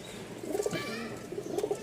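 Rajshahi Giribaz pigeons, a pair of black and green floor-patterned birds, coo softly in two short rounds of low, rolling calls, fairly close with faint background hiss.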